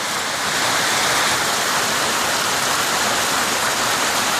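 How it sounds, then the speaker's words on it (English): Heavy tropical rain drumming steadily on a zinc roof during a thunderstorm, a dense, even hiss that is loud and continuous throughout. "You hear the sound of the rain on the zinc on the roof."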